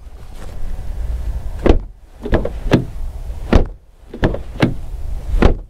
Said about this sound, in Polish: Ok, to teraz dźwięk otwierania i zamykania drzwi.